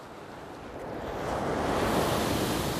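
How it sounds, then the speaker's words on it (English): Ocean surf breaking on a clean sandy beach in Albany, Western Australia, a steady broadband wash that swells louder midway and holds, with some wind in the background. "Such a beautiful sandy beach."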